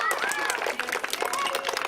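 Applause from a youth baseball awards crowd for the coaches of a national all-division team, dense clapping mixed with cheers and children's voices, fairly loud and sustained.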